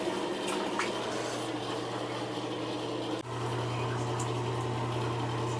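Water runs steadily from a garden hose onto an old gas furnace unit being washed outdoors, a continuous rushing hiss over a low steady hum, close and unbroken apart from one brief dip.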